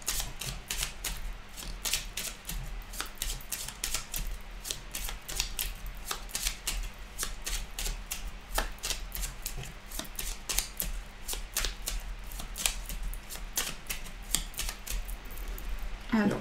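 A deck of oracle cards is shuffled in quick, repeated crisp riffles and snaps, close up, with a soft steady hum underneath.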